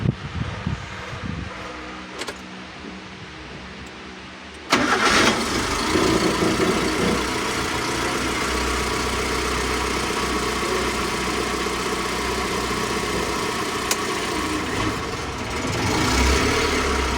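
A Changan car engine with a burnt valve cranks and catches after several seconds of quiet, then settles into a loud, steady idle with a faint mechanical whir.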